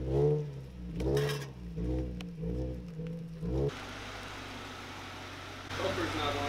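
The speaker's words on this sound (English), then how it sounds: "Some exhaust action." A BMW 650i Gran Coupe exhaust burbles and revs in several pulsing bursts, then settles into a steady engine drone with a rising rev near the end.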